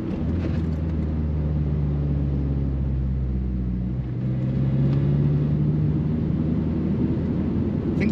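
A Honda Civic EP3 Type R with a twin plate clutch revs hard and pulls away at traffic lights, a loud steady engine drone with a rising tone and shifting pitch through the clip, heard from inside the car.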